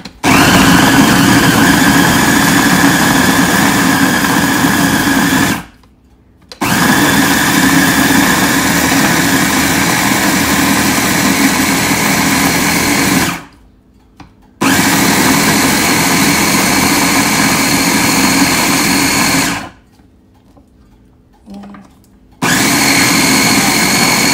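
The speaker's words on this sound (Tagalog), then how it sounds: "Ito na lang muna yung i-blend ko." A blender whirs loudly, blending chili for chili garlic, in four long runs separated by short pauses. The steady high motor drone stays close and constant during each run.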